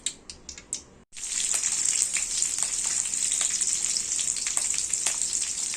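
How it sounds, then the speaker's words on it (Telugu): Mustard seeds, peanuts and curry leaves hit hot oil in a kadai for an upma tempering: a few sharp taps as they drop in, then a loud, steady, close sizzle with crackling pops. "ఆయిల్ వేడయ్యాక తాలింపు గింజలు, పల్లీలు, కరివేపాకు వేసి వేయించుకోవాలి"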